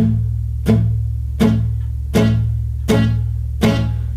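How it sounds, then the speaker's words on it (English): Acoustic guitar strummed with a palm mute, short damped chords struck one at a time in a steady, even rhythm, close and fairly loud. "add in a palm mute, so it'll sound like this."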